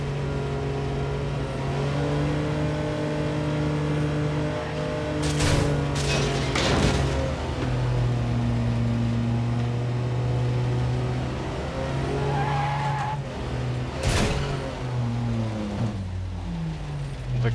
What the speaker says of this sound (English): The car is stuck.